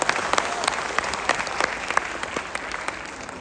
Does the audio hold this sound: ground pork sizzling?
no